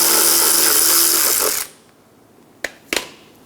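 A power tool runs loud and steady on a 10mm bolt atop the fog light cover of a 2007-2012 Nissan Altima front bumper, then stops, followed by two sharp metallic clicks.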